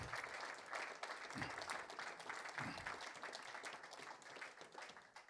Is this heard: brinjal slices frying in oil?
no